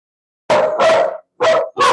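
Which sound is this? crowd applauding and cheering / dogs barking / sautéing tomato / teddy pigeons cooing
dogs barking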